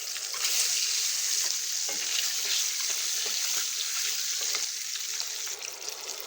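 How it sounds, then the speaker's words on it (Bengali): Boiled eggs coated in turmeric and salt fry in hot oil in a kadai for an egg curry with jackfruit seeds, giving a steady, loud, close sizzle that runs throughout with no talking. "এবার ডিমগুলো ভেজে তুলে রাখবো"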